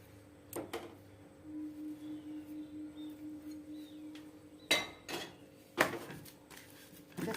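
A spoon mixing chhena in a kadai pan for homemade kacha golla gives a few sparse, quiet metallic clinks and scrapes, with three distinct knocks spread across a low, hushed background.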